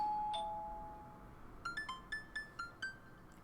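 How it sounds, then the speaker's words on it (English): An electronic doorbell in the video game Dream Daddy chimes: a single tone, then a quick series of about seven short, bright ding notes in a steady rhythm. "the doorbell rings."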